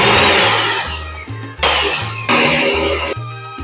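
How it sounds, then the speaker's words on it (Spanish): An electric blender pulses through tomatoes and salsa ingredients, loud whirring bursts that start, stop and restart several times with a low motor hum between them. "Ahora vamos a licuar nuestros jitomates y todos los ingredientes."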